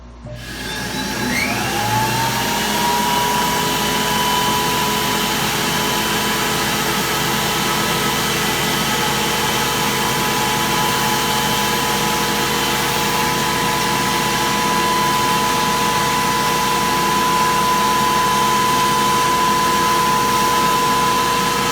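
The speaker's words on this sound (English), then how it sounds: "Alright, so we're going to try a 45-degree bevel on the joiner" A Cutech 8-inch benchtop jointer, model 40180H-CT with HSS tips, runs with a loud, steady motor whine and airy roar as it cuts a 45-degree bevel, with a cutterhead tone that shifts slightly near the start.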